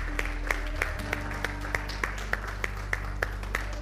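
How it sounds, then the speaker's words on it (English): Church congregation clapping during a sermon, heard as sharp, regularly spaced hand claps over a sustained low organ-like hum and a soft background of scattered applause. "let's give the Lord a hand clap for what He's done"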